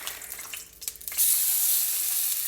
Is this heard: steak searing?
yes